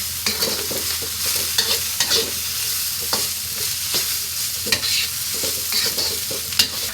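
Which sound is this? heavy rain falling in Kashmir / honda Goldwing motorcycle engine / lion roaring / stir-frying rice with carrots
stir-frying rice with carrots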